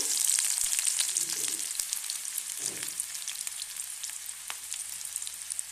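Sliced onion and panch phoron go into hot mustard oil in a pan. A bright, crackling sizzle is loud at first and then eases slightly, with a few thumps and scrapes as the spoon stirs.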